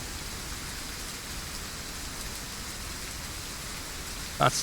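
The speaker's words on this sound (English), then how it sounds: "I've been playing this game over 50 hours, and that's the first thunderstorm I've seen" Steady, dense rain hisses in a thunderstorm in the hunting game Way of the Hunter, an even wash of falling water broken near the end by a brief sharp crackle.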